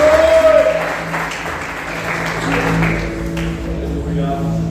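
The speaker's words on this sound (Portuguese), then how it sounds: "aplauda o nome do Senhor Jesus" A church congregation claps together in worship, a broad wash of applause blended with a sustained background tone and voices, steady through the moment.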